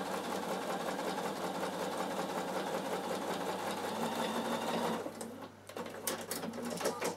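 A Bernina sewing machine stitches rows for chenille work with a rapid, steady mechanical whir close by, briefly slowing and stopping near the end before starting up again.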